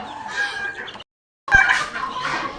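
Tiger-breed chickens, one rooster and two hens, cluck in a close pen in bursts with a short silent gap midway, with no talk over them.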